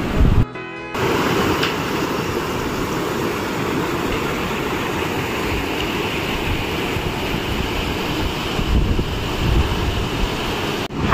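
A mountain river rushes near a Himalayan trekking trail toward Deurali village on the Annapurna Base Camp route, a dense, continuous roar of flowing water, loud and close, with no voices.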